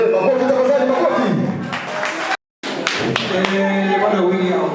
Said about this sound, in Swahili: Okay, makofi tafadhali, makofi.